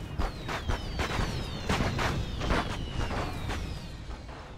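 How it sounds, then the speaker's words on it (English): Gandalf fireworks fire in a Third Age Reforged desert battle, a steady barrage of booming, crackling blasts layered over a dense, continuous battle din with rising whistles streaking overhead. "So the Gandalf fireworks are going to be firing straight away."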